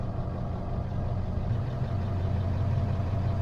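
A car engine idles steadily while warming up after an uneven crank, a low continuous rumble close by with no voices.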